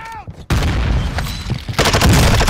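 A grenade goes off in a Call of Duty: Warzone firefight, a sudden loud broadband blast that rolls into dense, sustained gunfire and rumbling combat noise, with a voice briefly heard over the opening.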